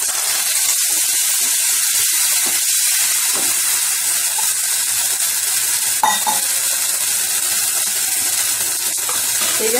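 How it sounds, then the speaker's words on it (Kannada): Tamarind juice is poured into a hot pan while making tamarind rice and stirred, giving a steady loud sizzle with scattered scraping and clinks of the spoon, and no one talking. "ಈಗ ಹುಣಸೆಹಣ್ಣು ರಸ ಇರುತ್ತಲ್ಲ ಆ ರಸ ಹಾಕೋಣ"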